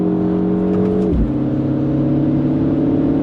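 MINI Countryman John Cooper Works engine pulling hard in second gear, then a quick shift into third drops the revs before the steady drone climbs again; loud, continuous cabin engine sound with no talk.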